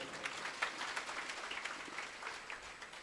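Soft, distant audience applause at a religious discourse, a steady patter of many hands that stays faint and even throughout.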